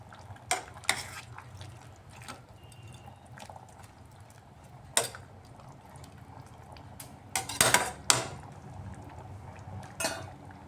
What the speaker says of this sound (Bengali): মাছ দিয়ে আরও একবার ভালো করে মিক্সড করে নিচ্ছি